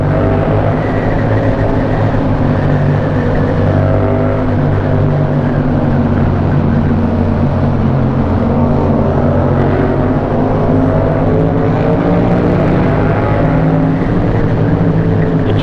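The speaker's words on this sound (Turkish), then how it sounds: "MT7 tüneli inleterek gidiyoruz" A Yamaha MT-07 motorcycle engine roars loudly and continuously while riding through a tunnel in traffic, a sustained rumbling drone with shifting pitch and no talk.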